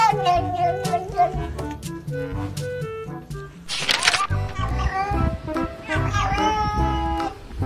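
A young orange kitten gives repeated short, high meows in quick succession, close and clear, with a brief burst of rustling noise partway through.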